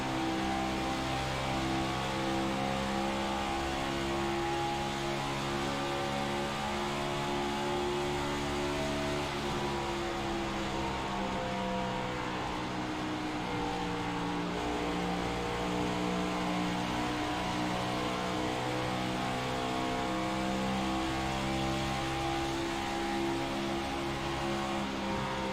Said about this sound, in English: David Rogerson here working the throttle.